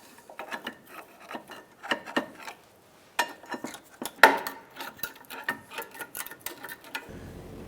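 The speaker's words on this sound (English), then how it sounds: "Now we're going to remove the brake pads." Mechanic working on the rear parking brake of a 2004-2009 Dodge Durango: sharp metallic clicks, taps and clinks of brake parts and tools come close and irregularly, with short quiet gaps between bursts of handling noise.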